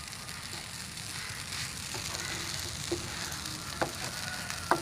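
Sago khichdi sizzles steadily in a pan as it is stirred, a soft, continuous frying hiss with a few light scraping taps near the end and no talking.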